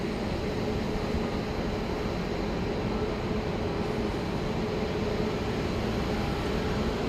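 A Boeing 737 Max 8 taxis out from the terminal at Dallas Love Field, a steady broadband engine roar and rumble holding constant and fairly loud throughout, with no talk.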